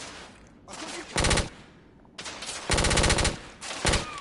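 Bursts of rapid automatic gunfire in the video game The Order: 1886, several short loud volleys separated by brief gaps, with faint background game sound between them.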